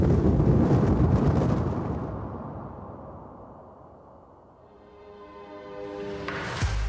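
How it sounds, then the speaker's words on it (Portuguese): Strong wind blows across open ground in the dry sertão backcountry of northeastern Brazil, a loud rushing roar that fades into a low steady hum and then swells again toward the end, with no voices. "Estão ouvindo o barulho desse vento?"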